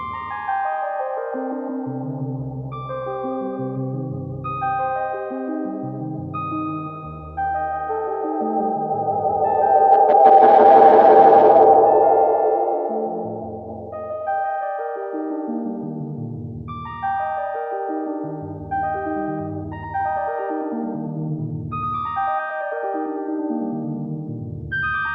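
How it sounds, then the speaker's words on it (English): A synthesizer plays a run of stepped, descending note patterns while its waveforms are switched and modulation is dialed in, with a swelling, buzzier passage near the middle, loud and close, with no voice. "Let's try some different waveforms out. And start dialing some of that modulation in"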